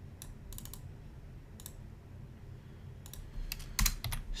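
Fast bursts of keystrokes clatter on a computer keyboard, close and fairly quiet, in short irregular clusters separated by pauses, with a louder run of clicks near the end; no speech.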